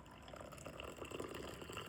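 Brewed French press coffee pours steadily into a cup, a continuous liquid gurgle and splash lasting the whole moment, close and moderately loud with no talking.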